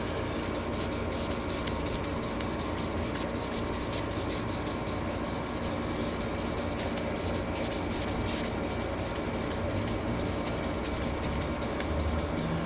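An old rusty hatchet hammer is polished toward a mirror finish with 2500 grit, giving a continuous dense rubbing hiss with fast repeated strokes that stays even and loud from start to finish.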